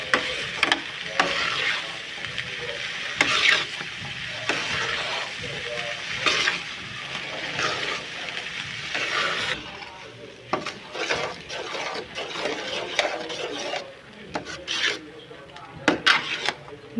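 Semolina halwa (suji) thickening in a pan, stirred with steady scraping and soft sizzling that carries on throughout, with faint talking underneath.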